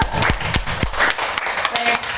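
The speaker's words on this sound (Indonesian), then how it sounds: "tepuk tangan dulu Bapak Ibu" A group of teachers claps briefly indoors, a short burst of sharp separate claps that thins out quickly, with a little background murmur.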